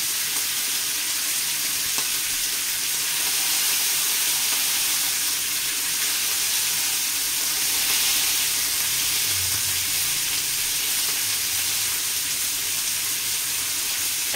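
Onions sizzling in a pan while being grilled for double smashburgers: a steady, loud, close fry hiss that runs unbroken throughout.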